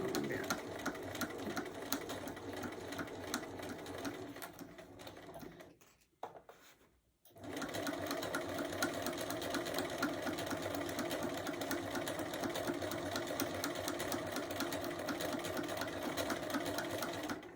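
Sewing machine stitching over a quilted gift basket handle, a long steady whir that briefly stops and then resumes, close and continuous.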